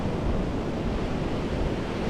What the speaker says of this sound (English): the sea's settled down a lot, but it's got a nice roll onto it